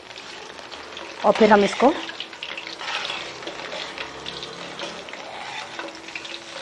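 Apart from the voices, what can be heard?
frying boondi for laal laddu in a small kadai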